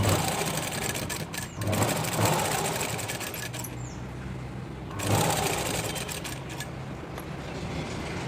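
A sewing machine runs in two bursts while stitching a blouse hook in place, a steady mechanical whirr that pauses briefly in the middle and then resumes, with no speech.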